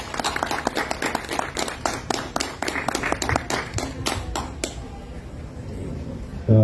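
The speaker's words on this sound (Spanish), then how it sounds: "les recibimos con un caluroso aplauso" Audience applause welcoming presenters at a book fair, a dense run of claps that fades out, followed by a brief sound at the very end.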